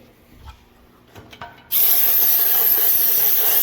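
Compressed air blasts loudly and steadily into a row unit of a John Deere 1790 planter, a sudden continuous hiss that starts partway through after a few faint clicks and carries on alone to the end.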